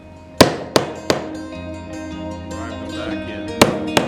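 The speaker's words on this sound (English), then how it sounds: "just using a flat tipped punch and a hammer, drive" A hammer strikes a flat-tipped punch to drive nails back into a finger-jointed wooden box, giving five loud, ringing metallic taps: three quick ones at the start and two near the end, with no talk.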